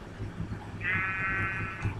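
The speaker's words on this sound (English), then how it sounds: "I can hear you, sheep, but I can't see." Sheep bleating in the Minecraft video game, one long wavering bleat rising partway through over a low rumbling game background, with no voices.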